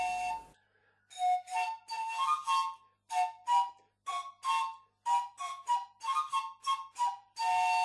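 Pan flute with 21 pipes playing a lively melody of short breathy notes in quick succession, clear and close, each note separated by brief gaps.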